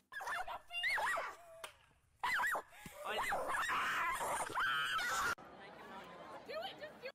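A dog gives shrill, repeated whimpering yips and squeals in bursts over several seconds, loud and close, mixed with chattering.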